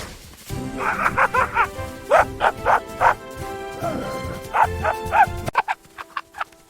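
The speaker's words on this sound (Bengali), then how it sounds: "তিনি মুরগির ঘরের পাশে একটা কুকুর পাহারায় বসিয়ে রাখলেন।" A cartoon guard dog posted beside a chicken coop lets out a run of loud, evenly spaced barks and yips, with a brief pause before a last quick volley.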